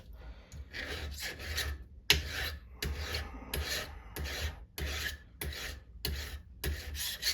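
Hand file rasping across a Stihl chainsaw chain tooth during sharpening, heard as about ten steady, evenly spaced strokes, close and fairly loud, with no talking.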